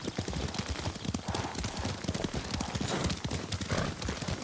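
Horse hooves in the video game Ghost of Tsushima: a steady, loud clip-clop of a horse being ridden, with rapid rhythmic hoofbeats throughout and occasional horse snorts, without speech.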